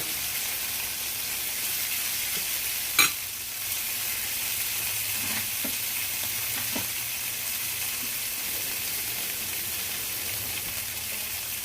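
Burger patties fry in a pan, a steady close sizzle and hiss with one sharp clatter near the start and a few faint scrapes from flipping, with no talking.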